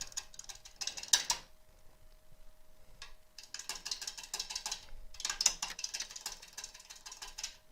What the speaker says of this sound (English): So I'm going to bring the gouge in nice and steady.